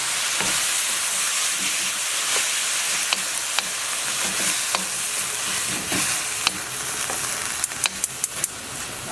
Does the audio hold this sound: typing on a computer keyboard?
no